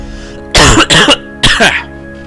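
Two loud, close coughs in quick succession, each a double burst, with a quiet hum in between.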